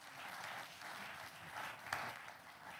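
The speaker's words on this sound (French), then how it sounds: "applaudissez pour lui s'il vous plaît" Soft, steady audience applause from a crowd at a public talk, faint and somewhat distant, a continuous wash of clapping with no voices over it.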